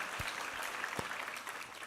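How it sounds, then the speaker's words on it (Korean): Church congregation applauding at a Sunday worship service, a dense, steady patter of many hands clapping, heard faintly and evenly throughout. "우리 하나님께 감사와 영광의 박수 올려드리겠습니다"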